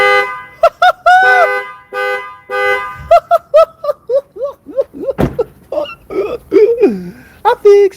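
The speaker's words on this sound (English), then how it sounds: "we're gonna go toot the horn and see if it blows" Short, loud car horn blasts sound repeatedly in quick bursts, some single toots and some longer honks, close by.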